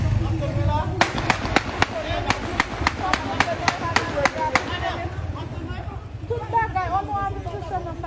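Heavy gunfire rings out as a rapid string of about a dozen sharp, loud cracks over roughly four seconds, over a steady background of crowd noise and voices.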